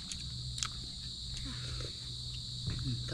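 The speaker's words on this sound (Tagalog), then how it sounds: "Tingog na gangis." A steady high-pitched drone of crickets fills the background at dusk by the sea, continuous and fairly faint, with scattered rustles and low animal sounds beneath.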